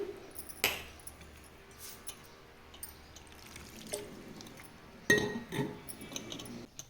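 Water trickles and drips into a container, with a couple of sharp clinks of glass or metal; quiet and close, no talking.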